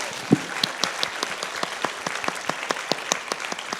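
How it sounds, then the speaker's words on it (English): Audience applause at a women-in-tech business talk: a moderate scatter of distinct hand claps from a modest crowd, sparse and fairly even, tapering off across a few seconds. "a round of applause, please, to the ladies and to the audience"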